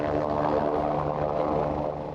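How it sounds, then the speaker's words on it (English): A helicopter drones overhead near a remote cove, a steady loud rotor and engine hum with a faint pulsing beat, heard alone without talk. "It's a helicopter."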